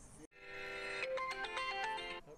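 Phone ringtone in a Telugu comedy sketch: a bright electronic melody plays for about two seconds, with a stepping pattern of short, clear tones, fairly quiet and alone.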